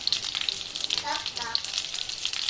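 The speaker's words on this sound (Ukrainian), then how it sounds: "в мене тут котлетки шкварчать на сковорідці" Close, steady sizzling of meat patties frying in a pan, with crackling pops throughout.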